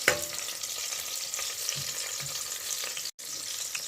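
A Jamaican brown stew chicken foot stir fry sizzles in flavored oil, giving a steady close-up crackling hiss with light stirring noises and a brief dropout near the end.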